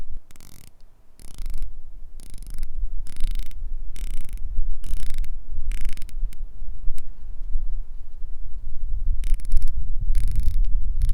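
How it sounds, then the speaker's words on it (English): A vintage San Martin SN004G diver watch bezel being turned in short bursts of crisp, close ratcheting clicks, roughly a dozen grouped pulses separated by brief pauses, with no talking. "As you heard and saw, reassuring clicks."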